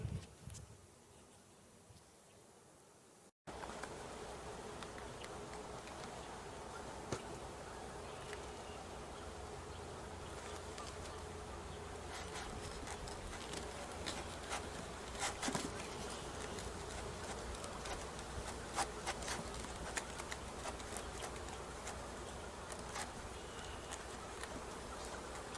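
Honey bees buzz densely and steadily around comb in a swarm trap during a cutout, a close, continuous swarm hum after a brief quieter opening, with light tapping and rustling.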